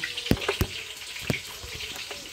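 Chicken being washed under a running tap, heard as soft streaming water with a few sharp splashes and knocks nearby, quiet and brief, with no voices.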